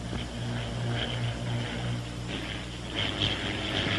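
A WW2 Bell P-39 Airacobra fighter drones steadily in a dive, its engine and propeller a continuous distant roar with slight swells in pitch.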